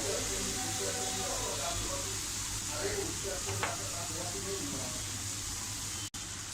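Drumstick (shevga) vegetable being sautéed in a pan gives a low, steady sizzle with a faint stir or two, quiet and continuous throughout.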